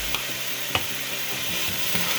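Meat browns in a pan with oregano, giving a continuous bright sizzle punctuated by a few sharp stirring clicks.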